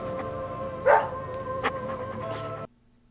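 A dog in the game Deadly Premonition gives a few short barks over a low music bed, one loud yelp-like bark standing out before the sound cuts off abruptly.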